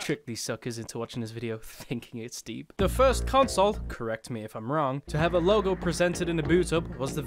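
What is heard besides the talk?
No everyday noise stands out behind the speech.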